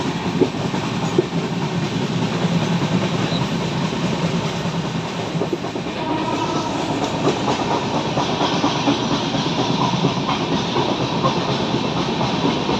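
The CSMT-HYB superfast express rolls steadily along its rails, giving a continuous loud rumble and clatter of wheels with a hissing edge. It runs unbroken with no voices.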